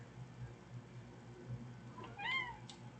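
A cat meows once, close to the microphone, near the end, a short rising and falling call over a low, steady indoor hum.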